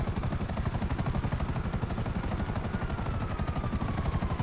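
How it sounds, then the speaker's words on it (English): Helicopter in the video game GTA Online: a dense, steady rotor thumping and engine roar that stays loud and continuous throughout, with rapid rhythmic pulsing underneath. "I might have to get rid of that chopper."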